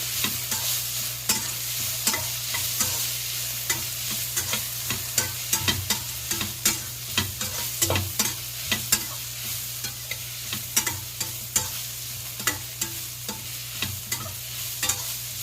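A capsicum rice mixture with mint is stirred in a frying pan over a constant low sizzle. Spoon scrapes and taps recur at a brisk, uneven pace throughout.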